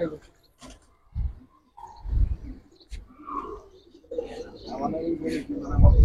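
Giribaz pigeons, including a black-necked line bird, give soft low coos and brief fluttery calls at close range amid a scuffle, with people talking intermittently throughout.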